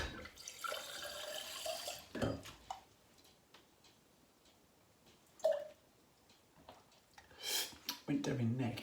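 Water runs from a kitchen tap into a cup in a brief, soft rushing burst, followed by faint drips and clinks while a person talks.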